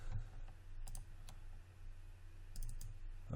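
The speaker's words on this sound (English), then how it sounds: "Click and double click." Computer mouse clicking and double-clicking while modelling in Maya 2017, a handful of quick, light, close clicks, some in pairs, over a low background hum.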